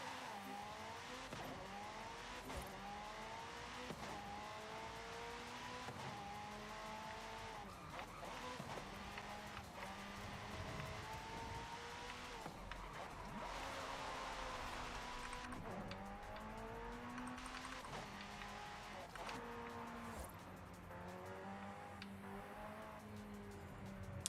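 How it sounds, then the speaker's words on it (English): A McLaren in Forza Horizon 5 driving up a small hill, its engine note rising and falling through repeated gear changes, with a couple of tire chirps, heard quietly beneath a person talking. "And just drive up a small hill in a McLaren."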